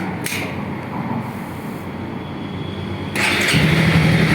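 A 2018 Honda CB300R motorcycle is started, a brief starter whir followed by the engine catching and settling into a steady, close, loud idle.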